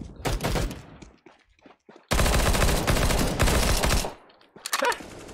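An auto sniper rifle in a casual video game fires in rapid bursts, with one short volley, then a longer sustained string of loud cracks, a pause and a final burst, and no talk.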